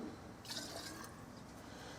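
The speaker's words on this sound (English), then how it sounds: "let's pour meths everywhere" Methylated spirits poured from a bottle into a camping multi-fuel stove, a faint, steady liquid trickle lasting about two seconds, with no one speaking.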